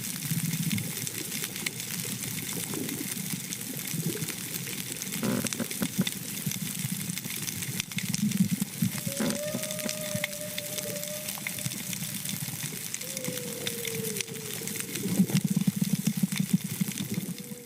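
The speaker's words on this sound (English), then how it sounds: "This was the sound of a healthy coral reef, alive with crackles, pops, clicks, and low-frequency hums made by fish, shrimp, and other marine organisms." A healthy coral reef underwater gives a dense, continuous bed of crackles and pops from shrimp and fish, over a low hum, with a few brief sliding tonal calls. There are no voices.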